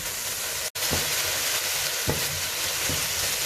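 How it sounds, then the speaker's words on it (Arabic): Garlic sautéing in a pan gives a steady, bright sizzle and hiss, close and loud, with a few soft stirring scrapes and one short break near the start. "هنشوح الثوم بتاعنا بالشكل ده كده."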